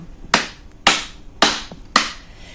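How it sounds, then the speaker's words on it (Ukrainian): Four crisp, evenly spaced hand claps keep a steady beat during a kindergarten music lesson. Each clap is sharp and close, with short quiet gaps between them and no talking. "Під мажорну музику будемо плескати долонями в ритм."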